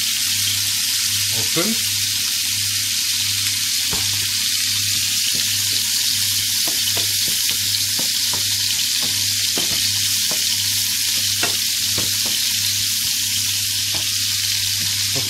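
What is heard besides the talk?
onions frying in a pan on the stove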